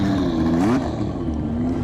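Honda-engined Williams FW11 Formula One car running, a steady loud engine drone with a brief rise in pitch and revs partway through, then settling back to an even hum; no talking.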